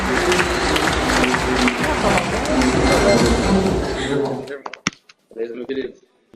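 Warm applause from an audience at a corporate event, dense and steady for about four seconds before fading into a few scattered claps and voices.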